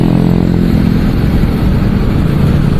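Motorcycle engine running steadily while riding, a loud continuous low rumble that fills the whole stretch without breaks or speech.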